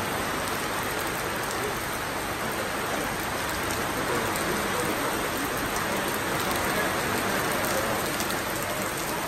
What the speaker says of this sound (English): Rain means good luck.